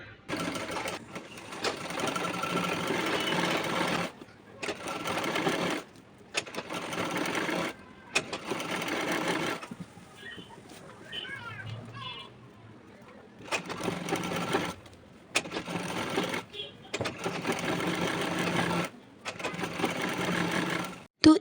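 A sewing machine stitches pillow cover fabric in repeated runs of steady whirring, broken by short pauses and a longer quiet gap with faint handling noise.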